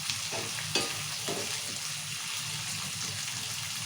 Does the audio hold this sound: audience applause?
no